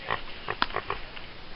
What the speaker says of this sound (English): They told us that was a mini pot-belly pig.